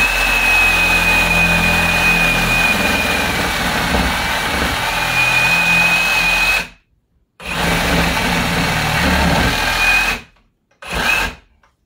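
Reciprocating saw used only for meat cutting, sawing through a beef shoulder: loud, steady buzzing strokes, close up, stopping abruptly twice near the end with a short final burst.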